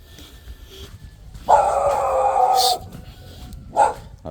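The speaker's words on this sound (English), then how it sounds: "I'll definitely be dealing with dogs, so that's why I got the walking stick." Dogs along a rain-soaked road in Tonga give a drawn-out howling bark followed by a shorter yelp, fairly close and loud against a quiet background.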